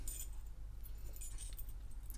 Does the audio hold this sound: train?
no